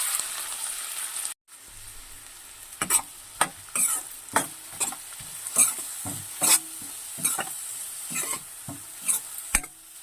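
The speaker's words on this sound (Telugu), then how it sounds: "కట్ చేసుకున్న ఆనియన్స్ వేసుకోవాలండి" Chopped onions dropped into a hot pan after green chili, cardamom and peppercorns, a sharp burst followed by steady sizzling and a string of loud scraping stirs at irregular intervals, no voices.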